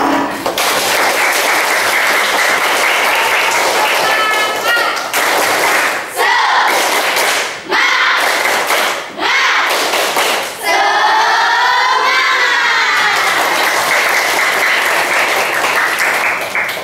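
A class of pupils claps at the close of a lesson, sustained loud applause filling the room with a brief pause and a few shouted cheers.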